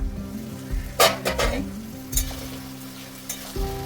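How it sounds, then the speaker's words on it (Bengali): Onions and capsicum frying in a pan for chili chicken, a steady sizzle with a few louder stirring scrapes and clatters, close and alone with no talk. "5 মিনিট ঢাকা দিয়ে আমি ভেজে নেবো সবজিগুলো।"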